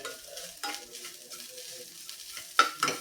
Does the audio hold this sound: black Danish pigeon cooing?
no